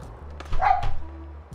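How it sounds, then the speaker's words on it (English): A toy poodle barks at a window indoors: a brief burst of sharp, fairly close barks in the middle, over a low steady background hum. "Sorry about the barking, guys. I'm trying to calm the dog down. He's barking at the window"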